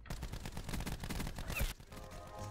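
Rapid automatic gunfire from the Rampart 17 rifle in Black Ops 4 rattles in dense bursts for well over a second, then breaks off into quieter game ambience.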